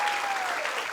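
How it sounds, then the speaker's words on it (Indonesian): A studio audience at an Indonesian TV variety show claps steadily in a dense, even wash of applause that carries at full strength for the whole second. "Kita berikan tepuk tangan."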